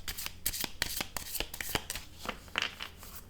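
Playing cards for a tarot-style reading are handled and shuffled close up, giving a rapid series of sharp papery slaps and riffles in an uneven rhythm, with no voices.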